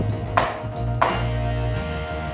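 A cake tin filled with rava cake batter is tapped twice against a surface, two short, crisp knocks about half a second apart over a steady low background hum.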